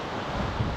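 Sea waves at Ayia Napa, Cyprus, a dense steady roar of surf mixed with wind buffeting the microphone, loud and continuous with no voices.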